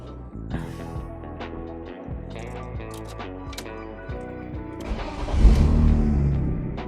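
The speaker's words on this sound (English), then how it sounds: "Let's turn her on." BMW E46 330Ci being started after brake shoe replacement: a starter cranks briefly before the engine catches and settles into a steady idle, then swells louder near the end.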